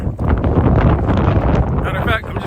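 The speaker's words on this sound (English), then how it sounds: "I know it's hella windy, so you guys can kind of like barely hear me" Heavy desert wind in the Mojave buffets the microphone in a steady low roar, with a person talking underneath, partly drowned out.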